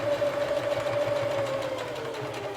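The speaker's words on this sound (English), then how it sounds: "now I'm going to sew all the way around" A sewing machine stitches a seam all the way around a piece of fabric, a loud, close, even mechanical hum with a rapid rhythmic chatter running without pause and no voices.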